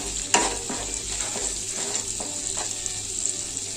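Spices stirred into frying melon curry: a constant close sizzle with a sharp clack near the start and a series of soft spoon scrapes through the pan, no voices.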